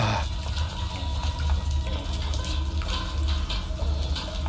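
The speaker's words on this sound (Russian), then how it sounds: "Че так шуметь-то стала вода?" Water runs loudly in the Granny horror video game, a dense, steady rush like a tap or flowing pipe. It continues unbroken without talk.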